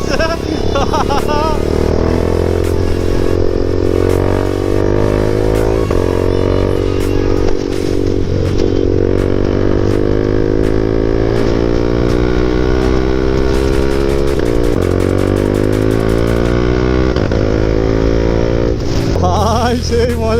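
A KTM RC 390 motorcycle carries a rider and passenger, its engine loud and close, revving up and down in rising and falling sweeps over constant wind and road noise.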